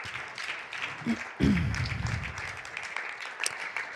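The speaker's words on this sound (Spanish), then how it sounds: "Podemos dar un aplauso al Señor por las ofrendas." Church congregation claps for the offerings, a soft, fairly distant patter of applause running steadily with a low thump near the start and faint voices beneath.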